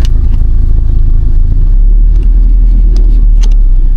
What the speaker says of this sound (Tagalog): Traffic pa guys.